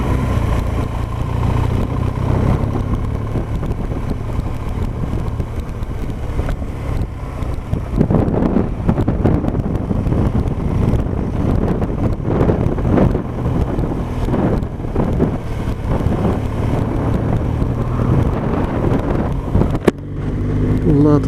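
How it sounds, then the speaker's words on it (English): Strong relentless wind buffeting the microphone during a mountain bike ride over rough wooded trail, a loud continuous rumbling roar with gusty surges throughout and a brief knock near the end. "that wind's relentless."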